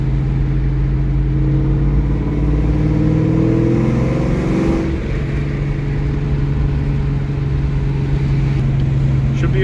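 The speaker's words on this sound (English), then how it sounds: "let's go on a little drive. Car drives awesome." A 1999 Ford Mustang Cobra driving, its engine droning steadily and rising through the gears as it accelerates, loud and close from inside the car.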